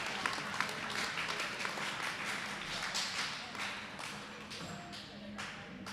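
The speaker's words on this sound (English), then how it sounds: "Round of applause for bars and motors." Spectators at the SPA Provincial powerlifting championships give a fairly faint, distant round of applause, scattered hand claps and taps blending into a soft sustained rattle across the hall.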